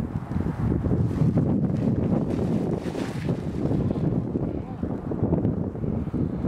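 Heavy wind buffeting a microphone outdoors on a disc golf course, a constant low roaring rumble with gusty swells that fills the whole clip and drowns out other detail.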